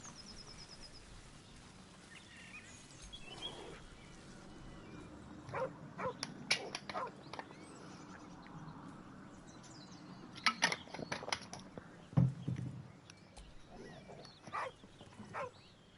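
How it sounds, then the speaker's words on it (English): A dog gives a few scattered barks and yips with soft whimpers between them, moderately close, set against a quiet outdoor background with occasional faint bird calls. "Oh, il y a un chien."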